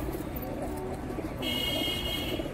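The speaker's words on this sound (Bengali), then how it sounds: "শিয়ালকুটি পায়রা আছে একটা, ওই যেটা ডাকছে নটটা" A Shiyalkuti pigeon coos steadily among other pigeons in a loft, nearby and continuous, with a faint high background tone joining partway through.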